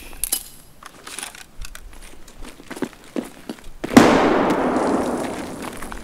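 A grenade goes off in a squad-based shooter game with a sudden loud burst followed by a sustained rumbling wash, preceded by scattered footsteps and small clicks.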